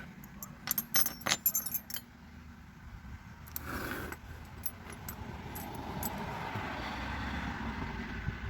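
Snap-on and Blue Point 9/32 wrenches clink and jangle as they are handled, a quick cluster of close, bright metallic taps followed by a brief rustle and quiet background hum.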